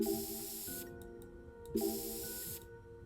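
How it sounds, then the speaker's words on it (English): Spray bursts in the video game Zero Time Dilemma, two loud hissing sprays over a background musical hum, each lasting about a second. "I feel like I've sprayed everything in the room."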